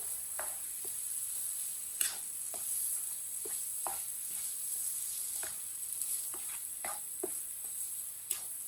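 Suji halwa with poppy seeds cooking in a pan for Eid, giving a steady close sizzle with scattered scraping stirs and light ticks throughout, no voices.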